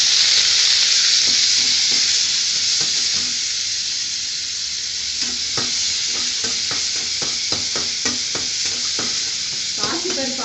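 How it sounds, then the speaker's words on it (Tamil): Onion, green chili and curry leaves hit hot oil with popping mustard seeds, giving a steady loud sizzle with scattered crackles and pops, no voices. "பொரிஞ்சோடனே இந்த வெங்காயம், பச்சை மிளகா, கருவேப்பிலை இது 3ஐயும் போட்டு வதக்க போகிறேன்."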